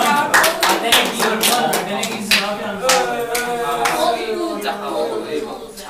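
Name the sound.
round of applause for a student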